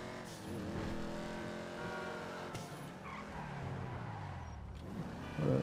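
A car driven fast in Grand Theft Auto V: a continuous game engine roar with shifting pitch and tire squeal near the end, no speech over it.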